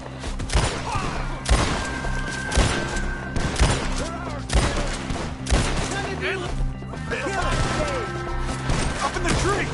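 Gunfire in the video game Red Dead Redemption 2, loud repeated shots and heavy impacts in an uneven volley, with voices shouting over the fighting.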